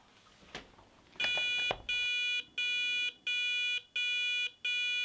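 A car breath alcohol tester sounds its stop-driving alarm, a loud, close, high electronic beep repeating in even pulses about half a second apart after a couple of soft knocks.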